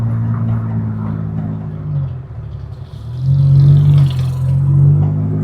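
A Daihatsu Ayla turbo swapped to a 3000cc V6 engine rumbles at low throttle, a deep steady drone that swells louder about halfway through and holds, heard up close inside the car.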